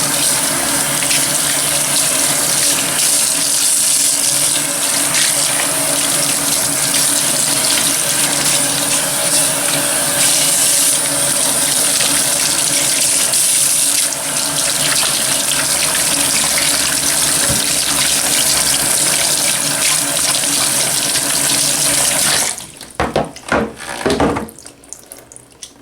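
Water runs continuously from a tap while a hair system unit is rinsed, a loud, steady close-up gush that stops abruptly near the end, leaving a few faint splashes and drips.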